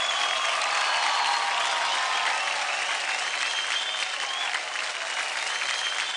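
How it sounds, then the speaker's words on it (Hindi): A studio audience at a Zee TV dance competition show gives loud, steady applause that fills the whole stretch without a break. "तालियां हो जाए गीता की गैंग के डबल्स कॉर्नल और सोनाली"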